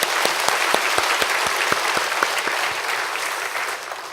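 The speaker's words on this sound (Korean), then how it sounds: "감사의 박수 한번 드리시겠습니다." A church congregation at an evening revival service applauds warmly and steadily, many hands clapping together, with sharper individual claps standing out near the front.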